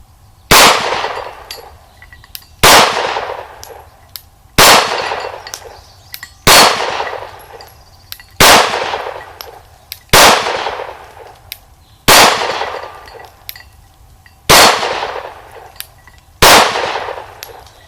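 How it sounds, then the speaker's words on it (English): A Springfield Armory XDs 9mm pistol fires steel case ammunition, nine loud, sharp shots spaced roughly two seconds apart, each followed by a ringing decay and quiet between them. "I'm going to run some steel case through it, see how it likes that stuff."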